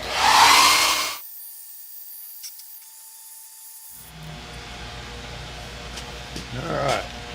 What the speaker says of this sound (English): Now I'll take the hairdryer and hurry this cement deal up a little bit.